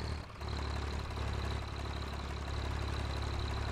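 An old Chieftain tractor in Farming Simulator 19 rumbles at a steady low idle after a brief start-up dip, the engine note even and close with a faint high whine above.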